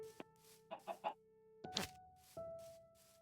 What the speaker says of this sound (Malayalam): നമുക്കൊരു കോഴി ഇങ്ങോട്ട് എടുക്കാം.